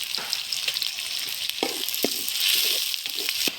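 Onions fry in hot oil with nigella seeds, giving a steady close sizzle with scattered sharp pops and crackles, loud and unbroken throughout.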